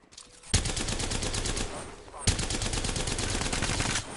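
Rapid automatic gunfire from the Apex Legends video game rattles in two long, loud bursts of evenly spaced shots, with a brief pause between them and faint talk beneath.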